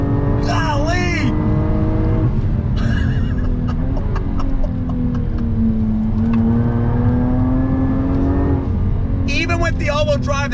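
A 2021 Jaguar F-Type R-Dynamic with a supercharged engine and all-wheel drive holds a steady, loud engine drone on a twisty road. Brief high squeals rise near the start and end, and someone talks over it.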